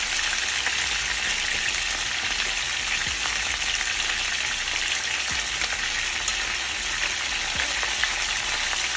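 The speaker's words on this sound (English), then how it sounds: "So I just put a little oil in the skillet and I'll just toss it around until the fish is ready." Salmon frying in a little oil in a skillet, a loud, steady close-up sizzle and crackle with occasional soft knocks of stirring or tossing, continuous throughout and free of voices.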